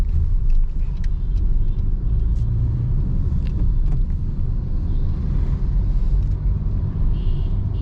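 A Maruti Suzuki Fronx is driven at night, heard from inside as a steady loud low road rumble and engine drone with faint ticks and clicks, and no talking.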